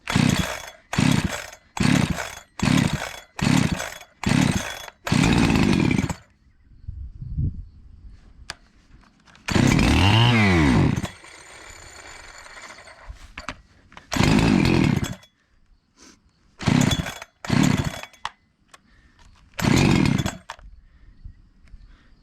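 A Holzfforma G372XP chainsaw engine, needing a carburetor tune, revs in repeated short bursts, then idles roughly and surges again, loud and close with no talking.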